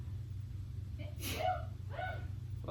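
A single sneeze from a person in a quiet exam room during a neurological examination, short and sharp over a steady low hum, followed by a brief breathy release.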